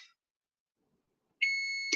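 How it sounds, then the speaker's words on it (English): A kitchen oven timer goes off during cookie baking: a brief electronic beep at the start, a moment of silence, then a sustained high steady beeping tone that continues to the end, with no talking. "we actually have the timer about to go off"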